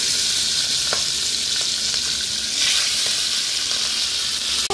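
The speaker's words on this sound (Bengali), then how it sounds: "মাছের মাথাটা আমি আগে ভেজে নেব।" A fish head fries in hot oil in a wok with a loud, continuous sizzle and faint crackles close by.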